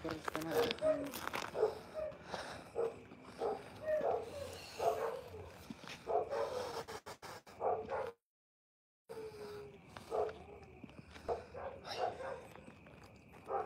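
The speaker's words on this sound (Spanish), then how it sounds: "para que no ladren los perros" Dogs bark intermittently at a distance while people talk and walk close by outdoors; a short dropout of silence interrupts partway through.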